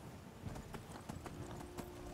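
Horse hooves clip-clopping in a video game: a quick run of hollow thudding steps at an even rhythm, faint under a steady background wash, with no talking.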